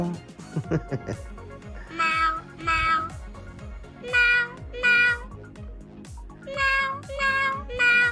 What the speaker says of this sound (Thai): นี่มันคีย์บอร์ดฟันแมว แล้วก็เป็นเสียงแมวด้วย